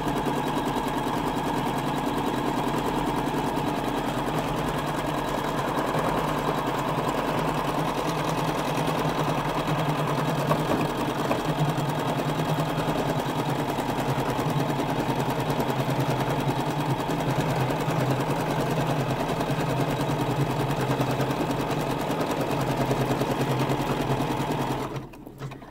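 An embroidery machine stitches a cutwork design in a steady, loud, continuous mechanical whir with a rapid needle rhythm, running without pause for about twenty-five seconds before stopping abruptly at the end.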